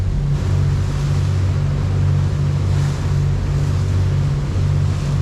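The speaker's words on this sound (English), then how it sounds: "Waves are great. It's really good. Boat is going good, no problem." A motorboat engine drones steadily at a low pitch while riding over ocean waves, water rushing and splashing against the hull, with wind noise throughout.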